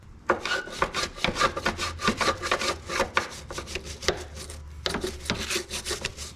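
Rhythmic hand scrubbing with a Scotch-Brite pad to clear grime from car parts on a Nissan 300ZX, a steady run of close, fairly quiet rasping strokes with a brief pause near the five-second mark.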